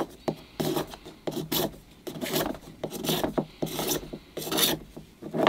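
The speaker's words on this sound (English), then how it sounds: "Just feel a little bit of pull on the scraper. It doesn't take much off at a time." A hand scraper draws across the surface of an oval bonsai pot in repeated rasping strokes, about two per second, close and crisp, with brief pauses between passes.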